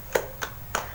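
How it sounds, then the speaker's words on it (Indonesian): Three sharp hand claps spaced evenly in a quiet classroom, the rhythmic 'tepuk fokus' clapping routine led by a teacher, each clap crisp and close. "Kita tepuk fokus dulu ya."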